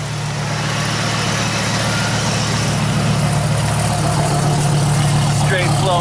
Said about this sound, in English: Gotta check out the exhaust system on this thing.